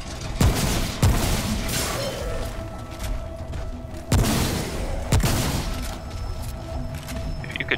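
Shotgun blasts in the video game Remnant: From the Ashes: four loud, booming shots in two spaced pairs, each followed by a mechanical pump and rumble, with no talking.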